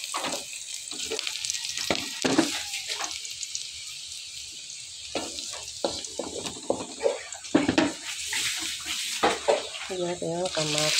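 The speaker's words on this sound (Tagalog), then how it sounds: "Ibrownin natin ang sibuyas." Onions frying and browning in a pan for ampalaya with egg, giving a steady close sizzle with stirring clatter and brief water-like splashes, while a person talks intermittently over it.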